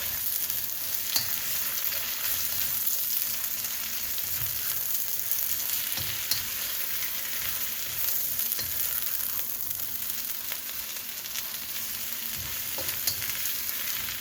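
Onions with smoked paprika stir-fry in a pan, a continuous bright sizzle with occasional scrapes and taps of a utensil stirring, steady and close throughout with no talking.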